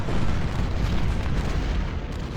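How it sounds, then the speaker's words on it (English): Enemy artillery in the Civil War strategy game Ultimate General: Civil War, a continuous heavy rumble of distant cannon fire and booms, loud and dense without clear gaps. "enemy artillery is opening up"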